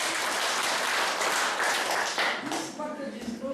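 Girls in an audience clap together in a dense, steady wash of applause that thins out toward the end as voices come through.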